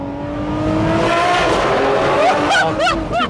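A loud, high-pitched Ferrari 599 SA Aperta engine roars and revs up in a tunnel, rising whine climbing steadily, with brief excited shouts near the end.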